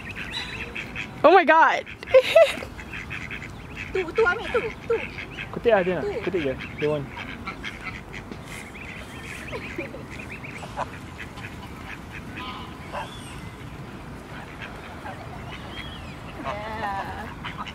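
Ducks quack in short bursts near the start at the lake in Munich's English Garden, then scattered calls continue against outdoor background noise, with a brief excited voice early on.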